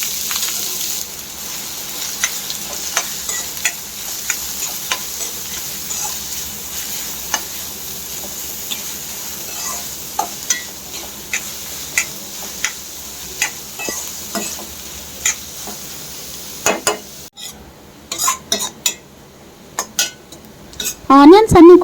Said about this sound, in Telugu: ఆనియన్స్ అన్నీ కూడా ఈ విధంగా గోల్డెన్ బ్రౌన్ వచ్చే వరకు బాగా ఫ్రై చేసుకోవాలి